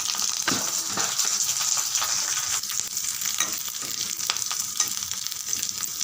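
Garlic and green chillies sautéing in a pan, a steady close hiss of sizzling oil with scattered crackles and occasional scrapes of stirring, no voices.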